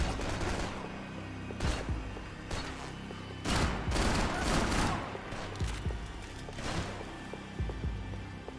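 Gunfire from the Max Payne 3 video game: repeated bursts of shots and heavy booming volleys, loud and dense throughout with a steady low rumble underneath.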